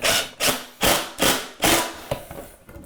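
A screw is driven through a pocket hole into softwood lumber for a mudroom bench, making five loud, evenly spaced bursts from the driver followed by a few quicker, fainter taps as it pulls tight.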